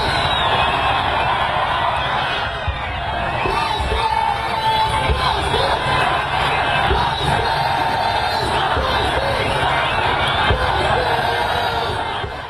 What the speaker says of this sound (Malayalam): കോഴിക്കോട് കടപ്പുറത്ത് ബിഗ് സ്ക്രീനിൽ കളി കാണാൻ ആയിരങ്ങളാണ് ഒഴുകിയെത്തിയത്.